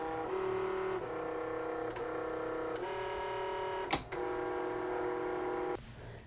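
Liene PixCut S1 cutting machine working through a sticker sheet, a steady close mechanical whir with tonal motor hum and brief pauses as the cutter changes direction, one sharp click near the end.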